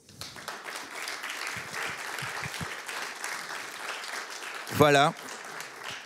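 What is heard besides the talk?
audience applause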